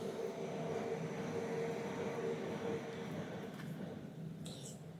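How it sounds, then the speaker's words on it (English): A train passes at a distance behind a knitter, a steady broad rumble that fills the background and fades slightly toward the end. "oh, train"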